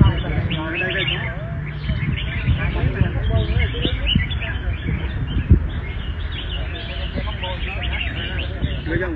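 Songbird chirping steadily at a bird singing contest, with repeated bright calls over a dense, noisy backdrop of crowd murmur and other birds throughout.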